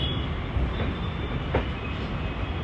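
MEMU passenger train running into Vijayawada station, a continuous broad rumble of wheels and carriages heard close by, with a faint thin squeal and one brief louder clack partway through, no voices.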